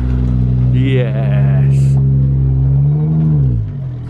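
A Nissan GT-R arrives with a deep, close engine rumble that rises in a rev and then eases off over a few seconds, while one person speaks briefly over it.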